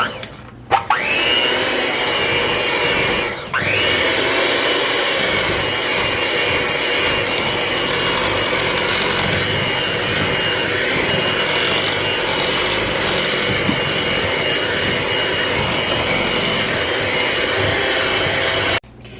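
An electric mixer beats cream cheese and sugar for an Oreo cheesecake. It whirs loudly and steadily for nearly the whole stretch, with one brief dip early on and no talking over it.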